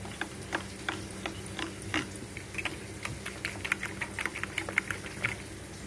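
Eggs with green chillies are being whisked in a bowl for an omelette, giving a quick irregular series of light clicking taps against a steady background hiss.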